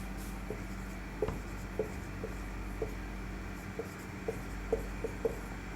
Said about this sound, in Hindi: मैं नीचे लिख दे रहा हूँ।